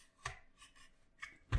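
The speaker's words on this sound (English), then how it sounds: "Use knife to cut" A knife cuts and pries open the plastic casing of an Arris SB6190 cable modem, giving a few sharp, close scraping and cracking bursts separated by quieter rasping.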